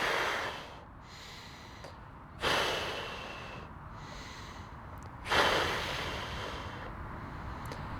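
Slow, audible breaths taken during a seated Ashtanga yoga pose outdoors near the Golden Gate Bridge, with two strong, airy inhale-exhale swells over a steady background hiss like surf or wind.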